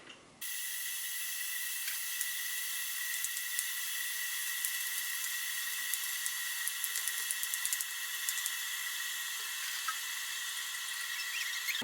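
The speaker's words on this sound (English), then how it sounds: "So while the kettle was boiling," An electric kettle heating water in a home kitchen gives a steady high-pitched hiss with faint rattling ticks, continuous and fairly close, starting abruptly and running alone without talk.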